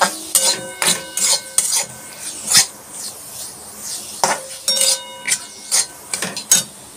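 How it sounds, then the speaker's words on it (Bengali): A spoon scrapes and knocks against a pan while chhana (cottage cheese) is stirred into cooked spices, in quick irregular strokes with short pauses between them, close and fairly loud. "ছানা দিয়ে এটাকে ভালোভাবে নাড়তে হবে"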